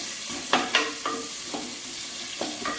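Chili and spices with mustard seed, cumin and a piece of cinnamon sauté in hot oil in a pan, a steady soft sizzle broken by several sharp stirring scrapes and clinks, close and alone.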